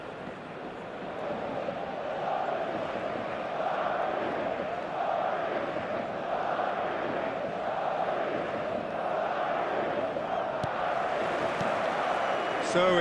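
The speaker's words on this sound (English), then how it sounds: "This crowd doesn't do ordinary, and we should be in for something very special." Stadium crowd in a football video game, a steady dense roar of many voices that holds at an even level throughout, with commentary-style speech likely mixed underneath.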